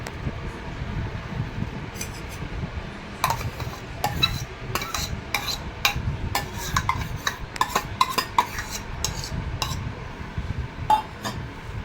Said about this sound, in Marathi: सगळं मिक्स करून घ्यायचं.